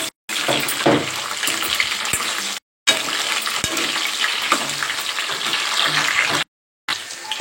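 Cauliflower fries in hot oil in a home kitchen with a loud, steady hiss and crackle, broken by two brief silent gaps.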